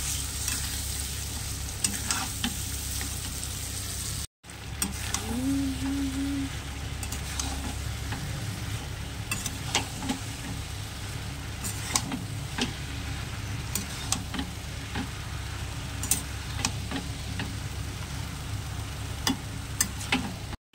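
Prawns are sautéed in a spice masala in a pan, with a steady sizzle and frequent light scrapes and taps of the spatula running throughout, briefly dropping out once.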